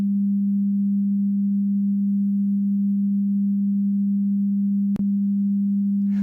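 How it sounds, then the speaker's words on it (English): A steady mid-frequency pure sine tone holds evenly and loudly throughout as an ear anatomy demonstration sound, with a brief click near the end and no talking. "Mid-frequency sound maximally displace the middle of the basilar membrane"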